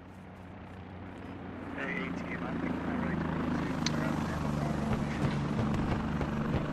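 Helicopter approaching in a military squad shooter game, its rotor thump and engine drone building from a low rumble to a louder, nearer roar, with voices talking over it.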